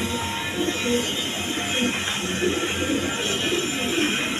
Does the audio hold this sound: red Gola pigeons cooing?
yes